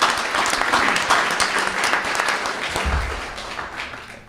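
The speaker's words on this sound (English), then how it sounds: "round of applause for that" A round of applause breaks out at a county board of education meeting, a dense patter of clapping from a modest indoor group that gradually fades over a few seconds.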